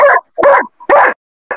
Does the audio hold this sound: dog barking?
yes